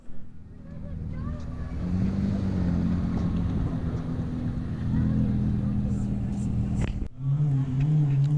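An Audi R8 sports car pulls away at a car show with a loud, close engine rumble that swells, dips briefly, then picks up again over crowd murmur.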